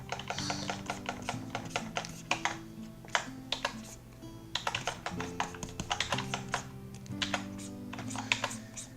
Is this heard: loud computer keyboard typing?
yes